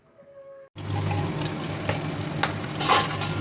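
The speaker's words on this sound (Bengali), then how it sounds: "মাছগুলো ফাটছে বাবা ফটফট করে এই দেখো" Fish frying in hot oil crackles and sizzles loudly and close up after a brief quiet opening, with irregular pops over a constant hiss.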